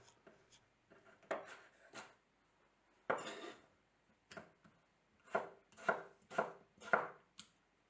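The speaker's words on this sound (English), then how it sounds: "a couple of tomatoes in, just chop them up roughly" A knife chops one large tomato on a board for a chicken balti, a string of separate close knocks, a few scattered early and then a quicker run of regular chops near the end, with no voices.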